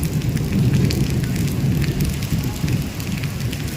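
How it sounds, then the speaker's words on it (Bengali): Steady rain falling on a surface during a visit to the Ganges riverside, a dense continuous patter with a low rumbling wash, fairly loud and unbroken, no voices. "বৃষ্টিটা এবার কমছে"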